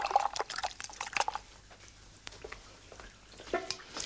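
Paintbrush swished and rinsed in a jar of water after poster or powder paint, a string of light liquid splashes and drips up close, busier at the start and again near the end, no talk.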